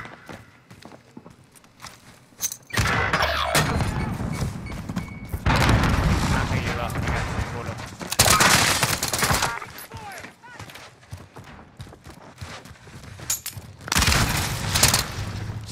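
Gunfire in Call of Duty: Modern Warfare, with bursts of shots and booms arriving in several loud clusters amid footsteps and game noise, while players talk over the action.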